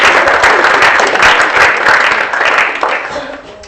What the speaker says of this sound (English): let's clap hands for my speech.